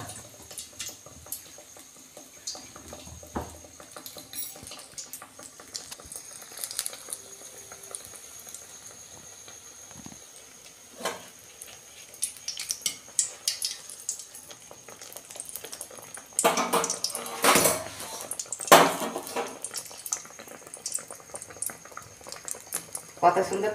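Banana flower croquettes deep-fry in hot oil, a soft continuous bubbling with crackly bursts that grow louder toward the end, along with occasional utensil clinks.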